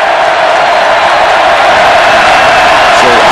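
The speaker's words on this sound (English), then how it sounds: "That'll just make this crowd louder." A loud, dense roar from a packed football stadium crowd at a Texas versus Texas A&M college game in 1999, with sustained cheering filling the whole stretch.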